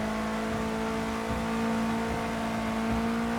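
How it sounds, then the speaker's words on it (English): Race car engine from Project Cars 2 at Silverstone, a close, steady whining drone with distinct harmonic tones that shift slightly in pitch as the car holds speed, alone without talk. "God, you could hear the engine change, couldn't you?"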